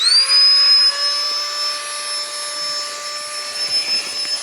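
Loud, steady electric whine of a pump inflating a sleeping mat at a mountain summit campsite in the Mournes, holding a constant high tone throughout, close and alone.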